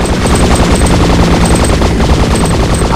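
Helicopter guns firing in a war video game, a loud, continuous rapid-fire machine-gun burst rattling without pause, close and heavy.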